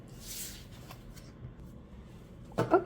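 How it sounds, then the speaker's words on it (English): Tarot cards riffle briefly in a soft shuffle, followed by a quick louder flurry of card snaps near the end. "so let's shuffle this deck"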